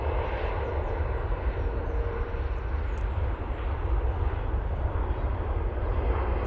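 A Virgin Atlantic airliner with no passengers takes off from Manchester Airport for Belfast, its jet engines a loud, steady, broadband roar that holds throughout.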